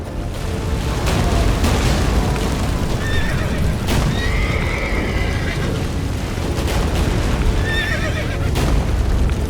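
A horse in The Witcher 3: Wild Hunt whinnies a few times over a dense, rumbling game soundscape with booms and steady background noise.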